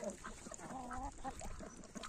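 Rouen ducks and a drake call at close range with a few short, nasal quacks and honking calls over a faint farmyard background.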